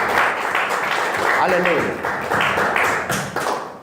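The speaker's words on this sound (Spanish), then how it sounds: "Denle un aplauso al Señor, mi hermano." A church congregation applauds during a worship service, loud clapping mixed with voices, and someone calls out over the noise.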